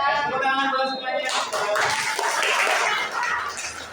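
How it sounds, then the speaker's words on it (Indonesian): A group breaks into applause, a dense burst of clapping that follows a voice speaking and carries on steadily to the end. "Tepuk tangan buat semuanya."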